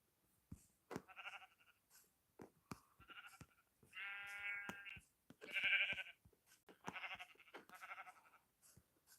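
Sheep bleating in Minecraft hardcore mode, several wavering bleats spaced among soft clicks and footsteps, close and clear, with one louder drawn-out bleat in the middle and no talking.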